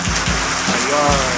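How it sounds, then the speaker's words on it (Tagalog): Rain pattering steadily at the San Jacinto public market, a dense wash of drops that stays loud and continuous through the short stretch. "dahil nabutan na tayo ng ulan"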